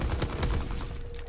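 Call of Duty: WWII gunfire comes as a quick burst of several loud, close shots in rapid succession, with no talking over it.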